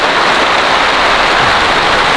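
Heavy downpour drums onto a camping tent in a monsoon rainstorm, a loud, dense, unbroken rushing hiss with no voices.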